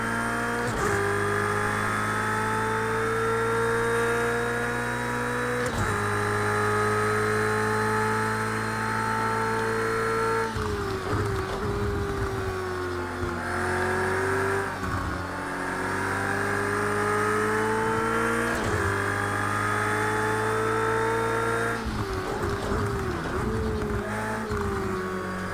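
A race car in Project CARS 2 is held high in first gear, its engine screaming at steady high revs with rising pitch sweeps and brief drops at gear changes, loud and continuous throughout.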